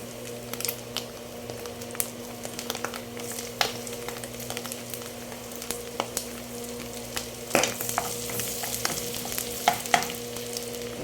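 Garlic dropped into a hot frying pan for ginisang alamang with pork gives a steady close sizzle, with scattered small pops and scrapes and a low background hum, and no talking.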